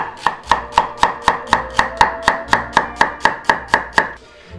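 Knife chopping down a celery stalk on a cutting board, about fifteen sharp, evenly spaced cuts in a quick steady rhythm, close and clear with no talking.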